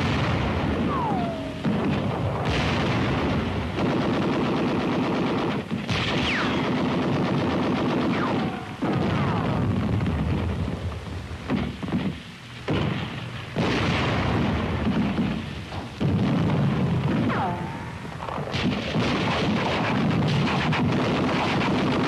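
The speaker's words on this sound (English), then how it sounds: "Self-propelled 105-millimeter howitzer spearhead the attack" Self-propelled 105-millimeter howitzers firing in a 1944 Alsace battle, heard as loud, continuous booming blasts and rumbling gunfire that fill the whole stretch, with repeated heavy shots and sharp cracks and no voices.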